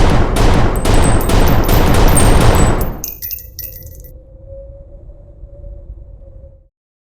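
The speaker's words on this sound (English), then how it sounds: "there was obviously 7 shots from a 6-chamber revolver" A six-chamber revolver fires a rapid, loud string of shots, close and harsh, for about three seconds; then the firing stops and a high metallic ringing tone lingers and slowly fades out.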